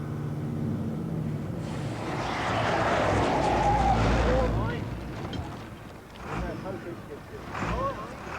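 A Leyland Roadrunner truck on worn-out tyres skids and half-spins, a loud, broad rush of engine and tyre noise swelling through the middle before easing, with people's voices heard over it.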